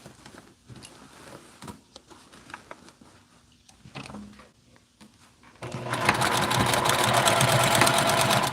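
Sewing machine stitching fabric, a soft intermittent mechanical patter at first that swells into a loud, steady run of fast stitching for the last few seconds, close by with no talk.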